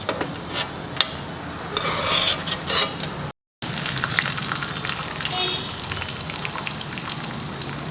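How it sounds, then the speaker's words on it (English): Cashews roast in a pan with a steady sizzling fry, punctuated by scattered clicks and scraping stirs, and a brief silent gap partway through. "Put in the cashew, roast it."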